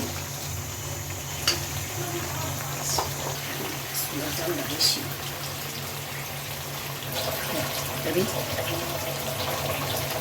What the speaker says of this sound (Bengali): একটু জল দিয়ে দিচ্ছি মাংসটা সিদ্ধ হওয়ার জন্য